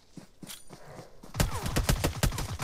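Rapid bursts of gunfire from the battle-royale game PUBG crackle close and loud, starting sparse and then turning into a dense rattling volley.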